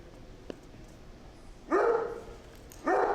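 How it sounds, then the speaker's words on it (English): A nine-year-old Great Dane gives two loud, deep barks close by, about a second apart, after a quiet stretch with faint background noise. "While he may sound like your typical dog, Great Dane Relay has overcome quite a bit i"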